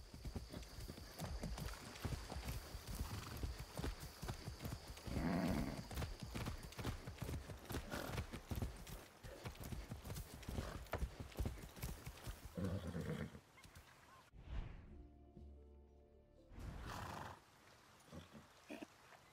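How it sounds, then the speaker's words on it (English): Horse hooves clip-clop at a steady gait while riding in Far Cry 6, with a neigh and game sounds mixed in, fairly close. "I haven't ridden a horse since basic training"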